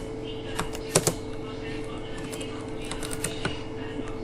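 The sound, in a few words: typing on a computer keyboard while building an Android app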